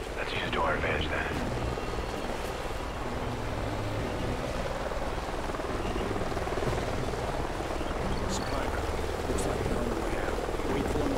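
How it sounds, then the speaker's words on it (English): A helicopter approaches in the Call of Duty Ghosts video game, its steady rotor drone filling the scene at constant loudness beneath voice chatter and faint effects. "Sounds like a chopper's up ahead of us"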